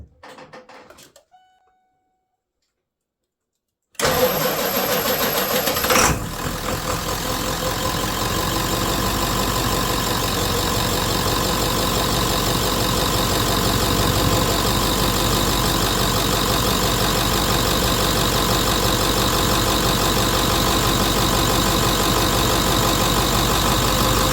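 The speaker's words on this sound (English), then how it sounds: "when it does start, it's probably not going to run on all the cylinders, so I'll just have to idle it until it cleans itself up" A diesel truck that has sat outside for hours at -8 degrees in winter cranks briefly after a short silence, catches and settles into a steady, loud, rough idle that runs on unchanged.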